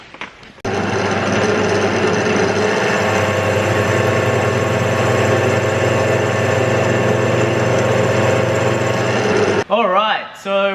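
A lathe trims the diameters of a bronze propeller housing casting, giving a loud, steady machining whine and rumble that runs for about nine seconds close up before stopping abruptly.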